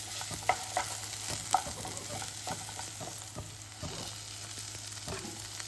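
Paneer and peas fry in a pan for matar paneer rice with a gentle, continuous sizzle, while a spoon scrapes and stirs in repeated soft strokes and knocks close by.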